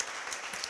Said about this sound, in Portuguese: Por favor, uma salva de palmas para a Marcele.